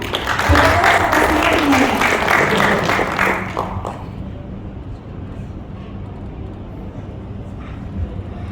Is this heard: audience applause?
yes